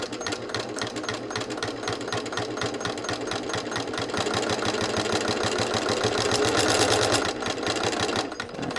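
A sewing machine stitches a potholder, its needle hammering in a fast, even mechanical rhythm close up, running steadily and speeding slightly before easing off near the end.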